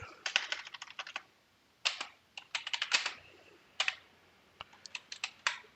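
Clicky computer keyboard typing as X++ code is written for Dynamics 365 Finance and Operations, sharp separate keystrokes in quick clusters broken by brief gaps, close up and otherwise quiet.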